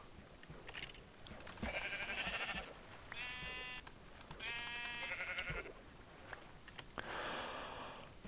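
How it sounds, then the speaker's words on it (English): A pink sheep in Minecraft bleats in a few quavering calls of a second or so each, set apart by short gaps over a low background, moderately loud and alone without speech. "It's a pink sheep."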